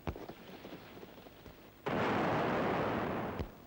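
A sharp bang from a lifeboat crew alarm rocket rings out, then after a pause a loud roaring whoosh bursts in and holds steady for over a second before cutting off with a thud.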